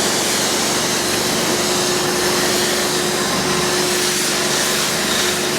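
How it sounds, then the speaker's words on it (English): A high-pressure rinse lance at a self-service car wash sprays a BMW E36 316i saloon, making a loud, steady hiss and roar of water jet that holds constant through the whole stretch without any talk. "get the old lance, and we press high pressure rinse"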